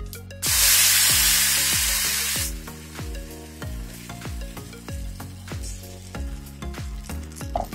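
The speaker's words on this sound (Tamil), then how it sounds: "கருவாப்பில் சேர்த்து பொரிச்சு எடுத்துட வேண்டியதான்." Curry leaves are dropped into hot oil with popped mustard seeds for a chutney tempering, bursting into a loud hissing sizzle that then settles into a crackling fry with repeated sharp clinks of a spoon against the pan.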